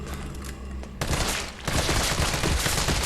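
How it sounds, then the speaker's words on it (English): Rapid, dense gunfire rattles continuously while shooting hunters in Resident Evil 3, loud and sustained with repeated bursts of shots. "I'm going to have to do a lot of shooting of a lot of hunters."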